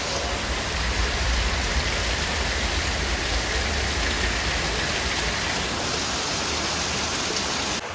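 Heavy rain pours down at night in a steady, loud, unbroken hiss that fills the whole stretch, with no voices.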